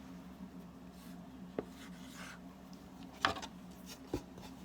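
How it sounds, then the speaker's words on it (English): Faint scratchy strokes of someone writing the number 13 by hand, a few short scribbles with light taps over a steady low background hum. "Write 13."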